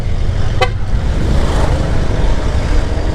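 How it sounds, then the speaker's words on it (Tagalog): A short, bright dual car horn toot rises over steady engine and road rumble, then only the constant drone of the moving vehicle continues. "dual horn na itong gamit natin"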